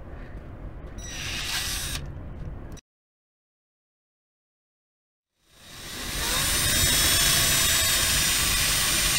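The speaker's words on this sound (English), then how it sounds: "we are going to drill into a plastic, not rubber, not metal" A power drill bores into a plastic subframe bushing on a Volvo S60/XC70/850/XC90, loud and close, with a short burst, a few seconds of silence, then a long sustained whine as the bit cuts in.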